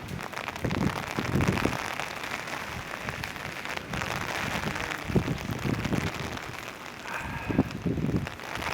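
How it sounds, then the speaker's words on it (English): Steady rain falls at Blarney Castle in Ireland, a dense hiss of drops on surfaces with occasional louder gusty surges, close and continuous with no talking. "you can see how rainy it got here"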